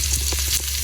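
Spices and chopped aromatics stirred in a hot pan give a brief, steady, close sizzle with a few soft scraping movements.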